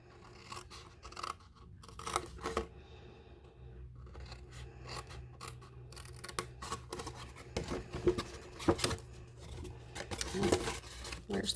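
Scissors snip through cardstock while a Mother's Day card and mini album take shape, giving a run of short crisp cuts and scrapes that grow busier toward the end, close and moderately loud with no talking.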